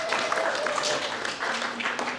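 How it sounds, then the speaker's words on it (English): Audience applause at an American Indian religious freedom summit, a steady wash of clapping from a crowd that fills the room evenly, with some faint speech mixed in. "Give him a round of applause for that as well."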